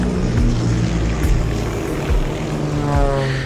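A recovery helicopter flying low over the sea, its engine and rotor making a loud, steady droning roar with harmonic beating throughout, close and unbroken by speech.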